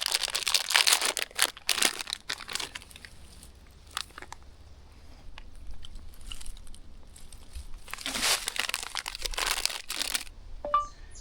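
Snack bag handled and opened outdoors at a bushcraft camp, bursts of sharp plastic crinkling and rustling in two main bouts with quieter gaps between.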